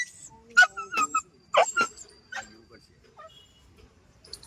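An injured dog, hurt by a vehicle, whimpers and yelps in short high bursts during treatment and stitching, close by and irregular, with quieter gaps between cries.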